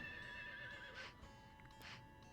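A horse in the Harvest Moon 64 video game whinnies in a short, shrill neigh over a looping game soundtrack, followed by a second fainter whinny and light clip-clop.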